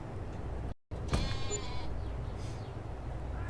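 A single sheep bleats in the video game Farming Simulator, a short wavering call rising over steady farmyard ambience just after a brief dropout in the sound.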